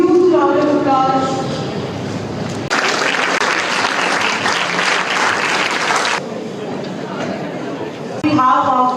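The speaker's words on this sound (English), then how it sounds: "give a huge round of applause" Applause at a national seminar on the right to mental health hosted at Guru Kashi University, Talwandi Sabo: a loud burst of audience clapping in the middle, with a voice talking before and after it.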